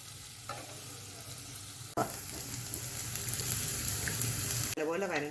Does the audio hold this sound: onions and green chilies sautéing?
yes